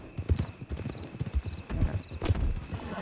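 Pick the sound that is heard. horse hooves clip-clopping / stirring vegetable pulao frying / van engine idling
horse hooves clip-clopping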